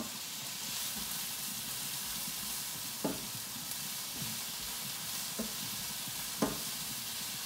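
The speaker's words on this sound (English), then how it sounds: "Stir it up." Food frying in a pan while being stirred during a home cook of fried fish and mustard greens: a steady, fairly faint sizzle throughout, with a few short scraping stir strokes around three, five and six seconds.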